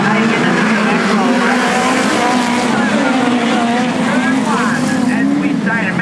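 Midget speedway race cars roar around a dirt oval at Archerfield Speedway during a heat, the loud continuous engine drone rising and falling, with a commentator talking over it throughout.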